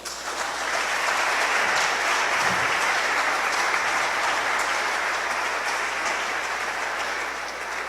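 Church congregation applauding during a sermon, a steady dense wash of clapping sustained at even loudness throughout with no talk over it.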